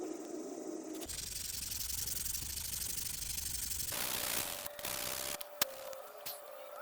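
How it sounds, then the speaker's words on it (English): Light sandpaper rubbing over a painted radiator badge for a '48 Willys, close dry scratchy strokes that shift in tone partway, ending with a few sharp knocks. "I'll just hit it with some light sandpaper until the letters, the raised letters and borders start showing through"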